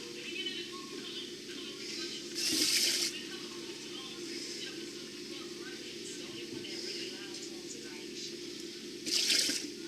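A little over two cups of water are poured into a pot of rice in a home kitchen, giving a steady splashing pour with two louder bursts of gushing, while a voice talks over it.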